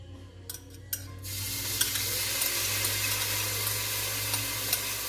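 Garlic and onions for chicken cacciatore hitting a pan, a few soft clinks giving way to a steady, close sizzle that keeps frying with occasional small pops and stirring taps.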